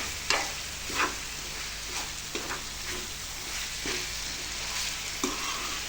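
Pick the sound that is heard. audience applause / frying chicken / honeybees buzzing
frying chicken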